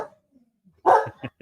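A house dog lets out a loud burst of barking, set off when another dog is taken out for a walk, followed by two shorter yips. Faint sounds come before the barks.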